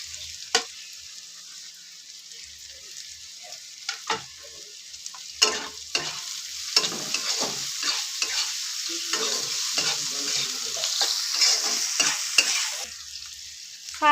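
Chopped vegetables for a spicy pasta fry in a pan with a bright steady sizzle while a spoon stirs and knocks against the metal in scattered clacks, close and fairly loud, no speech.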